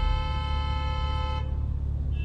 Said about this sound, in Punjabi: ਉਹ ਪਿੱਛੋਂ ਹਾਰਨ ਮਾਰ ਰਹੇ ਆ